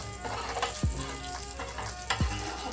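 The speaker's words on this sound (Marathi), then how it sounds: "आता ना पापलेट फ्राय होतात तोपर्यंत" Stuffed pomfret fish fries in a pan with a steady crackling sizzle of hot oil, broken by two sharp thuds or taps a little over a second apart; no one speaks.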